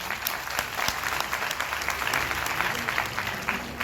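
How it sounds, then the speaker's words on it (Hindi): A crowd claps steadily for female cadets throughout, dense and sustained applause filling the space without pause. "महिला कैडेट्स के लिए तालियां।"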